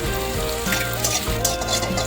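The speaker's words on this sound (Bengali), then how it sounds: "সেই পেঁয়াজটা দিয়ে দেবো। দিয়ে পেঁয়াজটার বাদামি রং আসা অবধি ফ্রাই করে নেব।" Chopped onions frying in white oil for an egg curry make a continuous, close sizzle with a dense crackling hiss, heard on its own for a couple of seconds.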